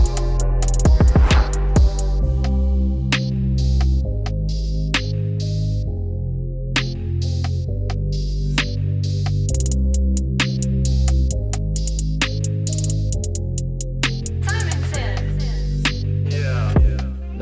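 Hair clippers buzz steadily while cutting a taper fade on a woman's hair, with the lever open, their electric hum shifting as strokes begin and end, punctuated by small clicks and brushing sounds.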